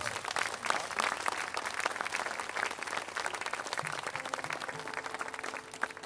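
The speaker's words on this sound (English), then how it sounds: "Give him a round of applause." Warm applause from a live music audience welcoming a drummer on stage, a dense, continuous wash of clapping at steady level with a few brief voices underneath, thinning slightly at the end.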